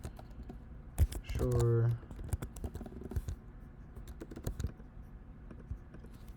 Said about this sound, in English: If I type in some dummy information here,